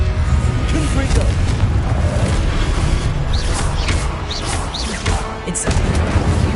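Confringo explosive spells blasting in a Harry Potter video game, a dense, loud run of booming, crashing impacts layered over continuous game noise and effects.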